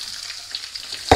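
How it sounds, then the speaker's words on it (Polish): Garlic and sweet peppers sizzle in a frying pan for a Polish pepper-tomato fish soup, a steady, close frying hiss ending in a sudden louder burst. "już zaczyna ładnie skwierczyć na patelni"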